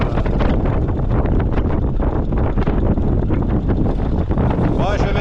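Strong gusting wind buffets the microphone on a southern Chilean road in falling snow, a dense roaring rush with rapid bursts, loud and close throughout.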